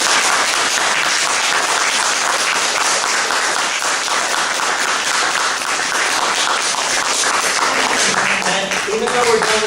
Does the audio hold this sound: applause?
yes